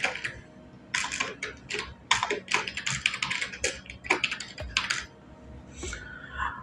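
Rapid, uneven keystrokes on a computer keyboard as a vendor name is entered into accounting software, close and fairly quiet, in bursts with short pauses and a final few taps.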